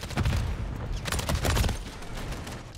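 Rapid gunfire from a fire-spewing shotgun in Call of Duty Modern Warfare 3, dense loud overlapping blasts in quick succession with rumbling low end and no pauses throughout.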